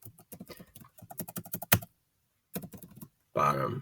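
Close computer keyboard typing in quick, uneven bursts of clicks with a short silent gap, followed by a brief louder noise at the end.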